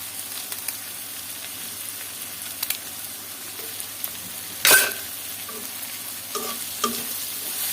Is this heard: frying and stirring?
yes